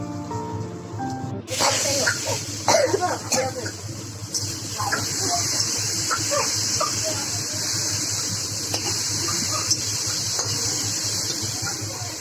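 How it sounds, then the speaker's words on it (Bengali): Fish frying in a pan give off a steady, loud hiss and spatter that begins abruptly and then holds, with scattered pops, while a person talks over it. "আর এই দেখো মাছগুলো ভেজে নিচ্ছি"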